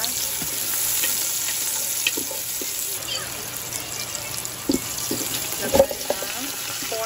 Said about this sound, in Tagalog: So, gisa lang siya muna dyan ng brown sibuyas na may luya.